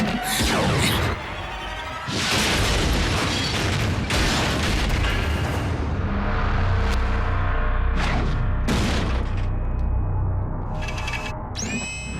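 A cartoon explosion blows up a Transformers Prime robot: loud, dense booming blasts and crackling bursts repeat across the whole stretch, with a few sharp whooshing hits near the end.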